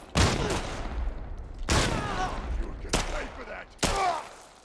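Gunfire in the video game The Last of Us Part 1: four loud separate shots with echoing tails about a second apart, faint voices beneath.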